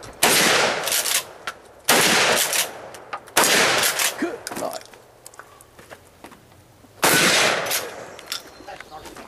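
Shotgun blasts at a shooting match stage, four loud broadband bursts at irregular intervals. Each is followed by rattling clatter, and people talk between the shots.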